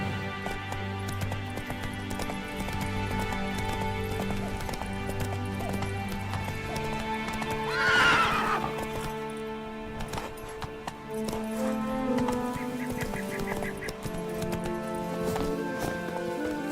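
A horse gallops and neighs in The Witcher 3: Wild Hunt, hooves thudding steadily under sustained game music, with a single loud whinny rising near the middle.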